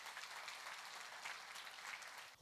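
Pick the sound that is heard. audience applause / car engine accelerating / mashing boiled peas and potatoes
audience applause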